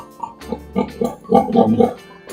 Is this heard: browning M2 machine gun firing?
no